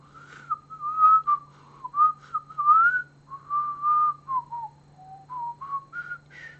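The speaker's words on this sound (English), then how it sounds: "When I whistle, do I inhale or exhale? I exhale." A person whistles a wandering melody of sustained and sliding notes, exhaling, close and clear over a low steady hum, with no talk.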